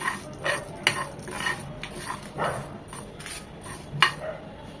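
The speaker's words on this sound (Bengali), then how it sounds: "দিয়ে দিচ্ছি চারটা শুকনো মরিচ দু চামচ জিরা দু চামচ পাঁচফোড়ন এসব একসাথে একটু ভেজে নেব" Dried chilies, cumin and panch phoron are dry-roasted and stirred in a pan, giving intermittent scraping and light clinks from a spatula against the metal, a few sharp knocks standing out over a soft background.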